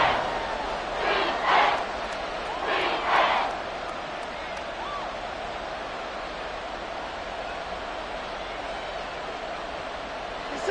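Stadium crowd in an American football video game, a roaring wash of cheering with two brief swells of louder shouting early on, then an even, steady roar to the end.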